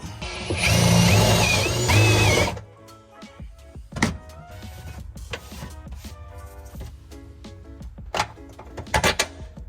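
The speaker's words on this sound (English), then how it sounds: "let's go ahead and drill it out" A loud, steady power-drill whine for about two and a half seconds while drilling out a part for a BMW E30 differential mount, then stops, followed by scattered clicks, clunks and light handling noises.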